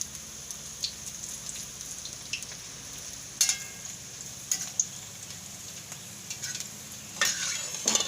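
Vada pav fry in hot oil after the gas is turned off, giving a soft, steady sizzle with occasional sharper pops and clinks of a utensil.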